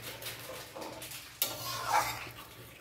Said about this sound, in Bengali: একটু জিরের গুঁড়ো মিশিয়ে দিলাম